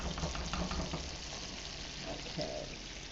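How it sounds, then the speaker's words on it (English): Gravy simmers in a pan with a soft, continuous bubbling and occasional small splatters, quiet and close, with faint background noise. "we got our gravy going and it's simmering. And there's the splatter."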